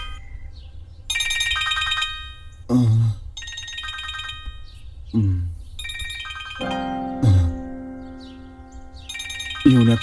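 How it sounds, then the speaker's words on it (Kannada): A telephone rings for an incoming call in a dubbed horror-movie scene, several bursts of bright ringtone separated by short gaps, with low thuds or grunts in between. "ಇವನೇ ಫೋನ್ ಮಾಡ್ತಾವನೆ. ಏನೋ ವಿಷಯ ಐತೆ."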